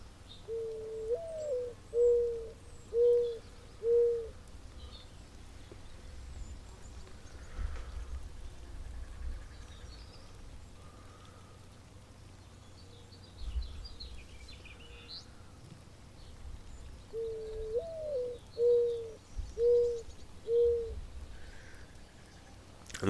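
Outdoors, a bird, likely a dove, gives two bouts of soft, repeated cooing calls, each several evenly spaced hoots, with quieter chirps from other birds scattered through a low ambient background; no talking.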